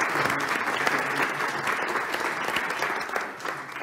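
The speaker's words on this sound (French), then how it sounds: "Merci beaucoup Clément, merci de l'applaudir." Steady, dense applause from a studio audience fills the room throughout with no break.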